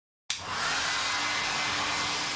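A hair dryer switches on abruptly after a moment of silence and blows with a steady, loud whooshing roar, close by and uninterrupted.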